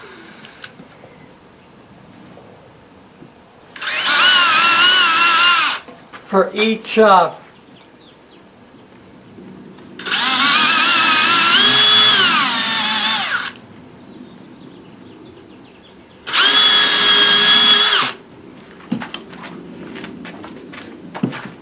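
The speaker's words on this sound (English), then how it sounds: "we're going to drill two pilot holes." A power drill with a 1/8 inch bit whirs in three bursts of a few seconds each, drilling pilot holes in wood, the motor pitch rising and falling as it bites, with brief handling noises between.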